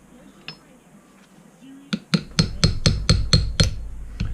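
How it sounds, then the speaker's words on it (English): A chisel taps out a fork oil seal on a Honda CRF150r dirt bike: a run of about eight light, evenly spaced metallic taps, close and fairly loud, following a couple of isolated knocks. "Just taps. I'm not hitting this very hard, just tapping it."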